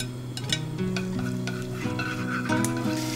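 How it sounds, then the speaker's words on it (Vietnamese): Shallots dropped into hot oil in a clay pot, frying with a continuous close sizzle and crackle while a utensil stirs and scrapes, some clinks against the pot. "Khi dầu hơi nóng thì mình cho hành tím vào trước nè."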